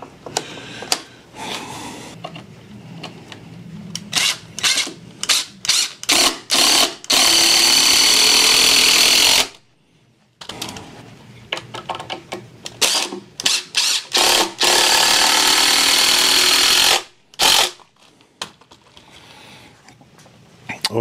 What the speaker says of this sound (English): Oh, that countersinking is nice.